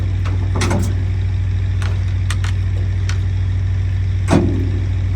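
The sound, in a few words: 1972 GMC Jimmy engine running with headers and mufflers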